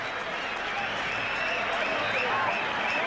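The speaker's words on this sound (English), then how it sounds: "Buzz around the crowd." Steady crowd buzz fills a cricket ground during a tense one-day international final between Australia and India at Sharjah in 1998, a continuous dense murmur of many voices without distinct cheers.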